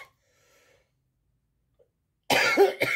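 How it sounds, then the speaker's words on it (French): One person coughs once, sharp and close, after a stretch of near silence, followed by a short throaty rasp. "je tousse"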